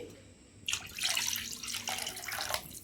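Water is poured into a bowl of curd for upma in a splashing burst lasting a couple of seconds, close and moderately loud over a quiet kitchen background.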